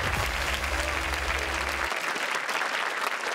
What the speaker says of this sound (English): Can we give all of them a warm round of applause as well?